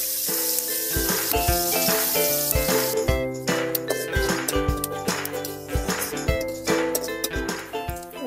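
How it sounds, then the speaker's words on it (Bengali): Onions hit hot oil in a karai on a clay village stove before prawns are cooked, giving a crackling sizzle with bright spitting pops over a strong tonal background. "তেল দিয়ে আমি এই চিংড়ি মাছটা রান্না করে নেব। এবার পেঁয়াজ দিচ্ছি"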